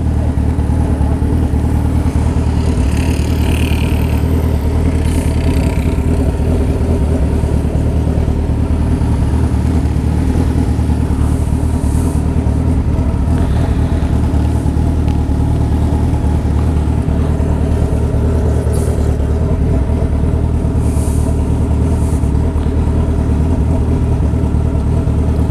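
A Suzuki B-King motorcycle engine drones while riding, a loud continuous low rumble with steady mid-range engine tone and wind buffeting, sustained throughout without speech.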